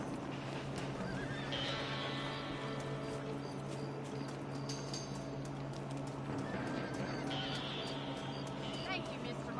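Horses in the Red Dead Redemption video game whinny twice over steady hoof clip-clop and a dense game soundscape, with people talking throughout.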